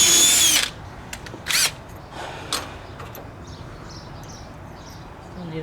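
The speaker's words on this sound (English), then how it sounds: "drill through it to get the set screw to go all the way through it." A power drill bores through a sway bar part to open a set screw hole during suspension work on a Pontiac C10. A loud, close, high whine opens, followed by a few shorter bursts of drilling.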